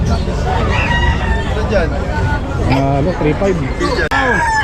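Roosters crow and chickens cluck amid a busy hubbub of voices and market noise at a pet market in Malabon, Philippines.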